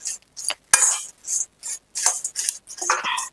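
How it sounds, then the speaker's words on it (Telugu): Dried shrimp chili powder mix being stirred in a hot iron kadai: a series of short, close scraping and clinking strokes in an uneven rhythm, with brief pauses between them and no talking. "నేను బంద్ చేసేసి దీన్ని ఇలానే కలుపుతున్నా అండి, ఎందుకంటే ఈ ఐరన్ కడాయి కదా"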